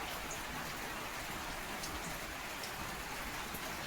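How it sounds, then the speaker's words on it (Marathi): Steady rain falls outdoors, a soft, even patter of drops that continues unbroken and fairly faint throughout. "पाऊस येतोय"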